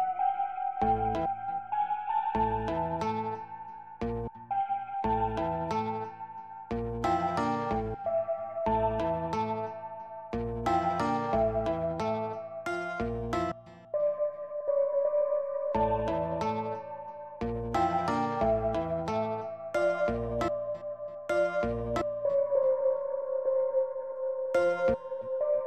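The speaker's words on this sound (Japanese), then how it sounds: "ベルシンセという感じですね。" A bright bell-like synth plays a counter melody of short chiming notes over a sustained tone, steady rhythm repeating through the phrase, no voices.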